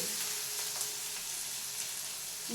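Ingredients crackle and splutter in hot ghee for a chicken pepper ghee roast, a dense, steady sizzle with fine popping throughout and no voices.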